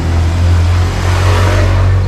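A car drives through hilly Ouro Preto in Minas Gerais, Brazil, with a loud, close, steady engine hum and road rumble that surges slightly, heard alone without talk.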